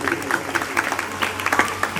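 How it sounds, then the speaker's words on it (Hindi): Devotional jagran audience clapping in appreciation of the Dhyanu Bhagat tableau, a moderate patter of hands with irregular sharper claps, a voice and soft background sound beneath. "ताली बजाओ ना ध्यानु भगत के लिए"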